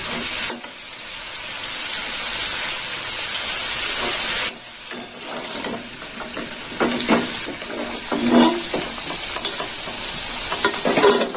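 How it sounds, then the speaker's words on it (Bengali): Potatoes fry in hot oil, a steady loud sizzle running throughout with bursts of crackle and occasional scraping stirs, with no voices over it. "আলুগুলো এইরকম ভাজা হয়েছে, হালকা লাল লাল ভাজা হয়েছে।"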